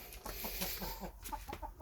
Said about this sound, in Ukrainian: Ще ходять кури